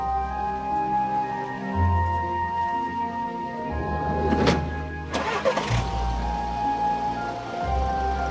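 A car engine idles and rumbles nearby, then turns over with a rising rush of revving and tyre noise as the car pulls away, the engine hum continuing steadily afterward.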